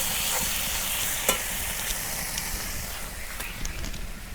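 Spices fry in hot oil for a Bangladeshi fish bhuna, with a steady close sizzle and hiss broken by a few sharp scrapes of stirring; no one speaks.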